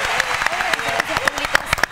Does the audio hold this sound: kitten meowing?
no